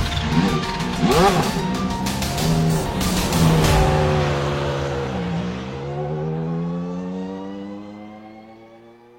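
Race cars roar side by side in a drag race to the finish line, their engines revving with pitch climbing and sweeping as they pass close by, then fading slightly toward the end.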